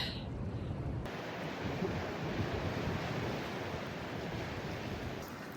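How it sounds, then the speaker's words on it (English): Continuous roar of ocean surf washing onto a winter beach on the Oregon coast, steady and broadband, with wind buffeting the microphone. "look at these waves behind me"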